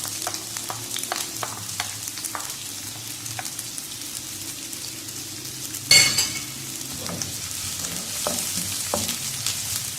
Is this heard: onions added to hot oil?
yes